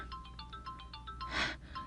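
A cellphone rings for an incoming call, its ringtone a quick repeating pattern of bright electronic notes over a steady background hiss, with a brief breathy burst near the end.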